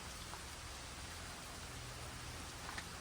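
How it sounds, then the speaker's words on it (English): Steady, quiet rain hisses evenly throughout, a soft continuous wash of falling drops with no voices. "it started raining"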